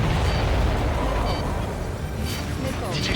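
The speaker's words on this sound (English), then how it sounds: "Did you see that explosion?" Ace Combat 7 aerial combat explosion, a loud rumbling boom with dense low-end roar sustained over a few seconds amid jet and battle noise, with radio chatter mixed in.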